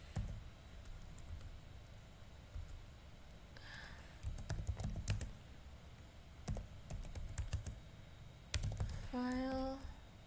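Keystrokes on a computer keyboard as a file permission command is typed into a terminal, with irregular close clicks in short bursts and a firmer press at the end, over a faint background hum.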